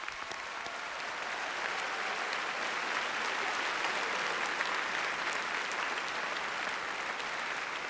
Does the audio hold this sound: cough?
no